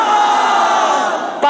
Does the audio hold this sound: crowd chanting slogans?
yes